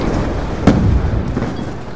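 An explosive crossbow bolt goes off in a video game, making one sharp blast followed by a rumbling tail and a fainter second thump, set against low background noise.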